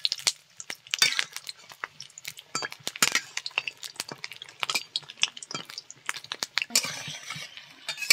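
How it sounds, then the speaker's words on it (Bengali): Nepali snacks being flipped in hot oil in a pan, with repeated sharp clinks and scrapes of a spatula against the metal over a soft, steady sizzle, close and with no speech. "এবার উল্টে দেবো জলখাবারগুলো সব।"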